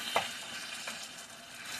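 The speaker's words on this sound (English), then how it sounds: "Definitely getting this sizzle on." Constant sizzling crackle of meat frying in a pan for an enchilada casserole, with a brief scrape of stirring near the start.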